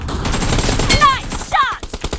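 S1897 shotgun blasts in PUBG Mobile team deathmatch, a few loud, close booming shots with trailing echoes, under background game noise.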